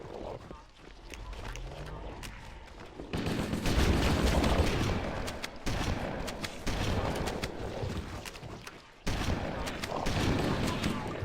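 Shotgun blasts go off during a Halo: Combat Evolved firefight against the Flood, dense and loud, mixed with continuous gunfire, explosions and game noise. A voice talks over part of it.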